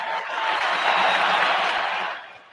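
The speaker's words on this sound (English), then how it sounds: "we need to play this. The applause." A recorded applause sound effect plays during a podcast, a dense burst of crowd clapping that swells, holds for about two seconds, then tapers off.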